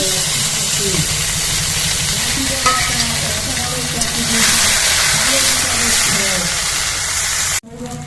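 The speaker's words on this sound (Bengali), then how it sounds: "এর মধ্যে একটু জিরে দিয়ে দিচ্ছি কাঁচা জিরে রসুনটা দিয়ে দিচ্ছি" Cumin seeds and garlic go into hot oil while chicken feet are being cooked, and a loud, steady sizzle and hiss fill the whole clip with some stirring underneath, until it cuts off sharply near the end.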